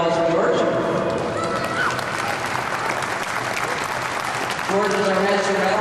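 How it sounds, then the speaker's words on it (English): Audience applause for a staff member, the master metal worker on a locomotive restoration, loud steady clapping from a crowd with voices talking over it. "Big round of applause for George."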